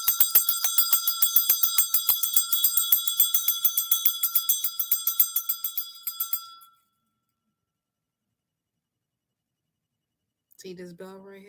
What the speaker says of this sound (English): see this bell right here.